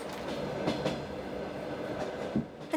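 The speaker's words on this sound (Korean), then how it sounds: "우리가 타야 하는 것은 밤 9시에 출발하는 야간 열차." Trans-Siberian night train running on the rails, a steady broad rumble with faint rhythmic clicks of wheels over joints and a brief louder knock near the end, heard from inside the carriage with no voices.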